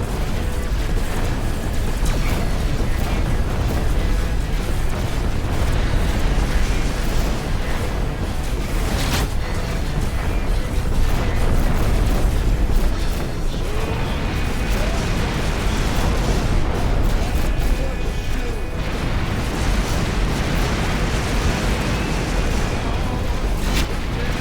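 Missile explosions and heavy booming in the space combat video game Rebel Galaxy, a dense continuous barrage of blasts and rumble layered with music, loud and sustained throughout.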